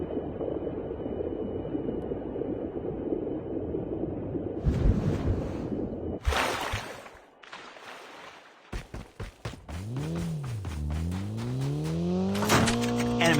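A vehicle in a battle royale video game rumbles along with a rough engine drone, broken by sharp bursts and gaps, then revs up with sweeping rising and falling pitch near the end.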